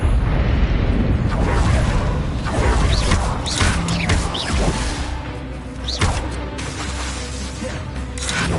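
The Expelliarmus spell from Hogwarts Legacy goes off amid loud magical combat, with bursts, thuds and a whooshing blast, followed by rumbling effects that fade to a lower background hum.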